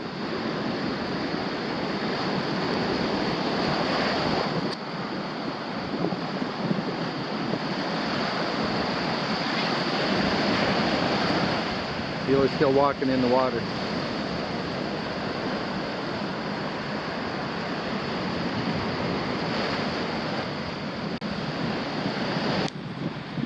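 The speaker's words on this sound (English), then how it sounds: "surf's still pounding in here" Surf pounding on Kailua Beach on Oahu, a constant, loud wash of breaking waves with wind buffeting the microphone throughout, and someone speaking briefly midway.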